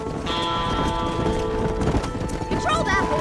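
Steady clip-clop of horse hooves trotting in Red Dead Redemption, with game music and ambient tones underneath and a brief whinny-like sound near the end.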